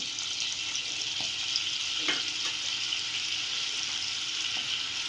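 Cumin seeds sizzle in oil and butter in a pan, a steady soft frying hiss with a few faint clicks and pops throughout, with no voices.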